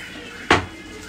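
Chilli bajji batter being mixed in a bowl for egg-stuffed bajji, heard as one sharp, close clink of a utensil against the bowl over quiet room tone.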